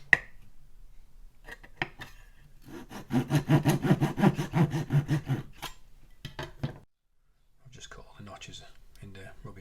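A small blade rasps back and forth in a quick, even sawing rhythm as 1mm slots are carved into a wooden model ship mast, close and clear, with brief scraping strokes before and after.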